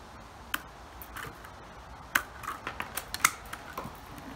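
Scissors snip willow pieces in a quiet room, giving a few sharp, close clicks followed by a quick run of small cuts and ticks, with no speech.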